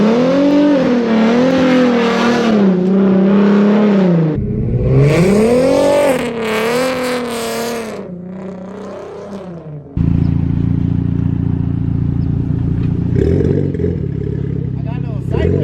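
An Infiniti Q50 drifts on a wet road in the rain. Its engine screams through loud, close revving sweeps that rise and fall repeatedly, then settles into a rough, steady drone.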